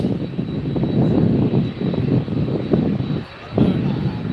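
Jet engines of a Lufthansa Boeing 747-8 cargo aircraft at an airport at night give a loud, rumbling roar that rises and dips, with a voice speaking over it.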